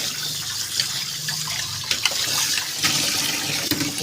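Distilled water poured into a pot of fish sinigang makes a steady splashing, trickling flow that runs close and continuous throughout, with no talking.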